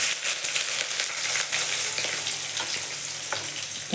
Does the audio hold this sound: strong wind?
no